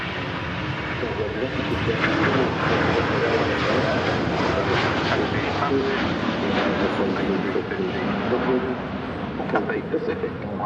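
Cathay Pacific airliner on a non-stop flight to Hong Kong at Manchester Airport, its jet engines giving a steady, loud broadband roar that holds throughout, with voices talking over it.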